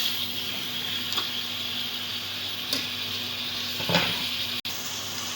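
Meat for aloo gosht curry fries on a high flame in a pot, giving a soft, steady sizzling hiss throughout with a few faint clinks and no talking.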